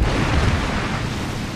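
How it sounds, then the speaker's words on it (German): Hand grenade exploding in the Resident Evil 2 Remake video game, a dense, loud rumbling blast that fills the whole short stretch with no clear onset or fade. "Das nenne ich eine Explosion."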